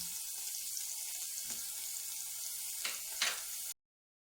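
Garlic sizzling in a hot pan for sausage egg fried rice, a steady close frying hiss throughout with a couple of brief scraping clinks near the end.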